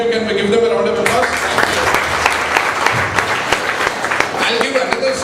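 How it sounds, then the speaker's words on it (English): A round of applause in a communication skills class, with brisk clapping filling the room for several seconds. It follows and precedes a speaking voice, loud and close. "Both of you can give them a round of applause."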